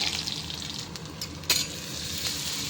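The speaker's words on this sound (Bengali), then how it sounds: "নারকেল তেলের মধ্যে রসুন দিয়ে দিলাম রসুনটা একটু ভেজে নেবো" Garlic frying in hot coconut oil with mustard seeds, a steady close sizzle with a few sharp pops and crackles, no voices over it.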